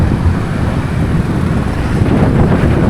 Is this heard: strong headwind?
yes